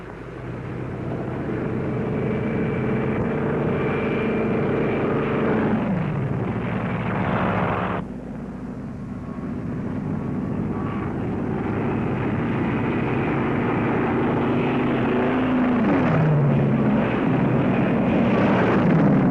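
A roaring aircraft engine drones steadily as drone aircraft launch from a navy carrier, loud and continuous, with a sudden shift partway through and the roar swelling again toward the end.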